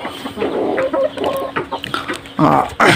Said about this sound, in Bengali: এগুলো ছিল সিল্কি মুরগি, ইউরোপিয়ান সিল্কি